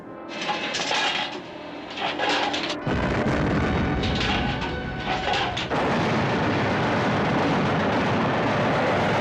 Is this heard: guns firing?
yes